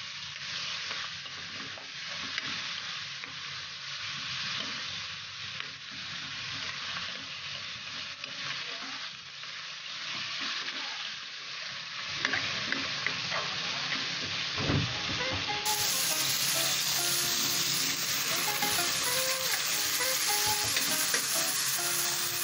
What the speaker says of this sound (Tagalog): Isa-gisa lang natin ito.